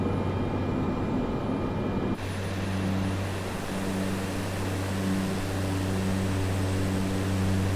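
A small aircraft flies through a canyon in Microsoft Flight Simulator 2024 with a steady droning engine hum and constant cabin noise. Partway through, the tone shifts to a lower, even drone with strong steady pitches, and nobody speaks.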